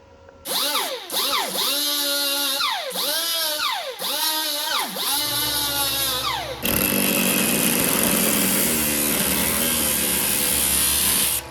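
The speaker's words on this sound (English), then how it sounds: "Let's grind this spot down and cut it back open." An angle grinder revs up and down in repeated surges, then bites steadily into a welded spot on a 1979 Plymouth Volare wagon body, loud and close with harsh metallic grinding noise.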